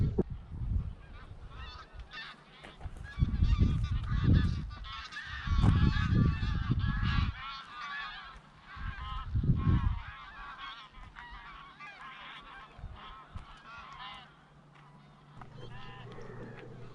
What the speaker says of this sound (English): you might be able to hear geese flying round in the distance